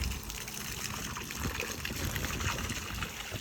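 Water being poured onto an orange tree in a farm orchard makes a soft, steady trickle and splash. It continues quietly throughout with no talking.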